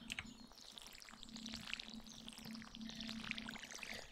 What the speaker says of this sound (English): we need to water the plants first